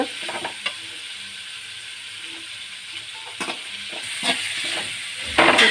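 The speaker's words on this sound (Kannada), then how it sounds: "ಒಂಚೂರು ಫ್ರೈ ಆವಣ" Food frying in a pan, a continuous low sizzle with scattered spatula scrapes and taps, swelling into a louder burst of sizzling hiss at the end.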